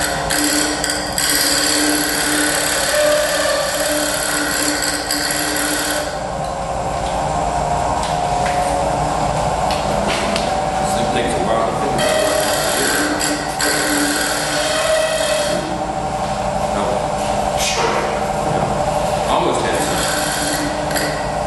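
A woodturning gouge refines a spinning wooden surface on a lathe, peeling off shavings with a continuous, harsh scraping rasp that stays loud and close throughout.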